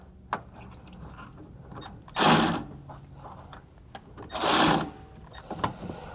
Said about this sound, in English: we'll switch over to our ratchet here